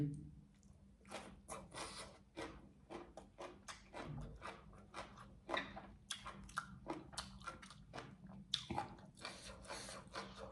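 Someone eating spicy green papaya salad with shrimp, with close, wet crunching bites and steady chewing throughout, plus scattered small handling clicks and faint background sounds.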